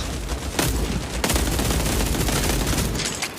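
Dense, rapid machine-gun fire from a World War shooter video game rattles on continuously and loudly, with sharper bursts standing out near the start and again around the one-second mark.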